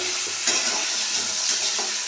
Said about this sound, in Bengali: পনির আর পনিরের আলু আমি ভেজে নিচ্ছি আগে